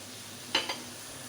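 Chili sauce poured into chicken fried rice in a hot pan, giving a short soft splash and brief sizzle, two quick bursts close up against quiet background.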